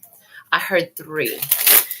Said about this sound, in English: I feel like I need to shuffle these this way.